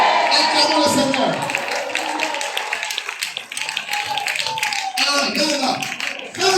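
A church congregation claps and cheers in praise, a dense, continuous wash of hand claps and crowd voices, loud and lively throughout.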